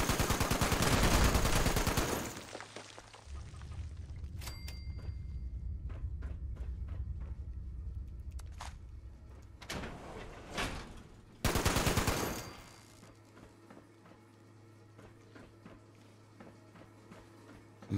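Turret gunfire in the video game Fallout 76: a loud opening burst of shots, then scattered sharp reports over a steady droning background, and a second heavy burst near the end, with no talking.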